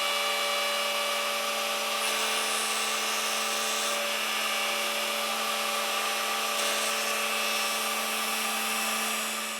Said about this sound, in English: our cutter here will just take off a very small amount and just leave a little shelf that we'll be able to put our binding on